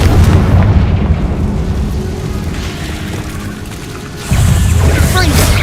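Fire-spell blasts from Confringo cast in Hogwarts Legacy, a dense rumbling boom that fills the scene, easing off before a second loud burst near the end.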